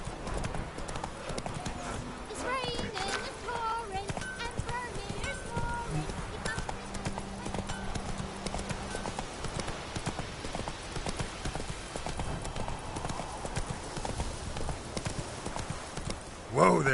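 Roach the horse galloping in The Witcher 3: steady rapid hoofbeats pounding throughout, with a brief whinny, under intermittent talk and a game soundtrack.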